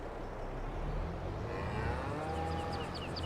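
Cows mooing loudly inside the Farming Simulator 22 video game, drawn-out bovine calls over continuous game background noise, with a fainter chirping sound near the end.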